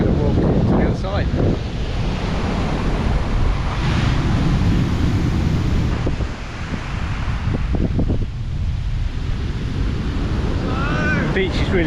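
Waves roll onto a soft, sloping Cornwall beach while strong wind buffets the microphone, a loud continuous rush of surf and gusts with brief lulls.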